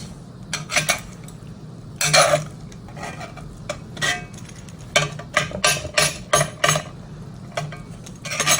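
A knife and utensil cut through a baked dump dinner in a pan, making a series of irregular sharp metallic clinks and scrapes against the dish, close and fairly loud, with no talk.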